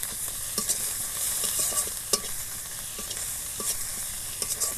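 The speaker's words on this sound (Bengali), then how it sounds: "আদা রসুনটা ভাজা ভাজা হয়ে গেছে।" Ginger-garlic paste with turmeric and chilli powder frying in a pan for a pangas fish kalia, a soft, continuous sizzle broken by scattered scraping clicks of a spoon stirring, fairly quiet and with no voices.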